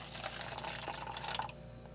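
Water pours steadily into a plastic MRE cup for about a second and a half, a close, hissing splash that then fades to quiet room noise.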